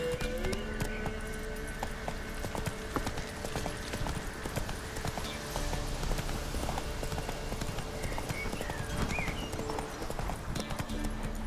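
The horse Roach galloping in The Witcher 3: Wild Hunt, a fast, continuous clip-clop of hooves with steady rhythm over a busy background of ambient game sound.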